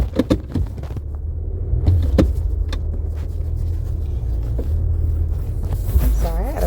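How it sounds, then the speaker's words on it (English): A car being moved and backed up rumbles with a low engine drone, with a few clicks and knocks at the start and a rising whine near the end. "moving my car for a second."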